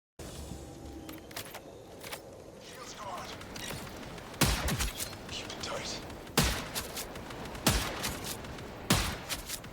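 Gunfire from the Marathon game trailer: a few sharp, loud single rifle shots spaced a couple of seconds apart, with softer mechanical clicks and rustles between them.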